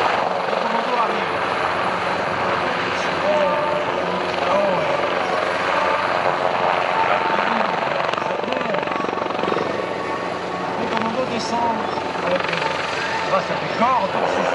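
EC 725 Caracal military helicopter of the French special forces, its loud rotor and turbine roar running steadily throughout, close and dominant, with faint voices underneath.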